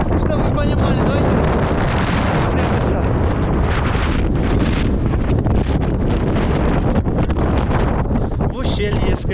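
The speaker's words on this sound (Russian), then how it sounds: "Невероятно сильный ветер." Powerful, continuous wind roars and batters the microphone in loud, unbroken gusts, with no pauses throughout, on the icy Angarsky Pass in Crimea after the first snow.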